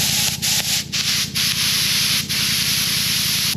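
An old air compressor left outside, with moisture in its tank, runs with a loud rapid mechanical chugging and a hissing rush of air, interrupted by a few brief dips, close and steady with no voices.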